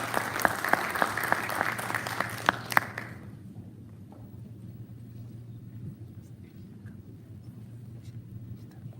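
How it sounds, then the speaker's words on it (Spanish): Audience applause at a university teaching symposium in Mexico, a burst of clapping that fades out after about three seconds, leaving a steady low hum of the hall. "les damos un fraternal aplauso"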